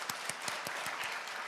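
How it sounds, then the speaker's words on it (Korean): A church congregation applauds during a Sunday worship service, with rhythmic unison claps at a steady beat over a continuous wash of crowd clapping, moderately distant and sustained. "하나님께 영광의 박수 한번 올려드리겠습니다."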